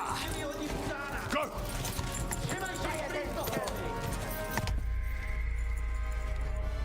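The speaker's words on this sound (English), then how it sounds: "Mas por que o meu cavalo tá tão lento?" Horse hooves clip-clop at a slow trot in the video game Kingdom Come: Deliverance II, a rhythmic run of close thuds heard under someone talking, giving way to a steady low hum.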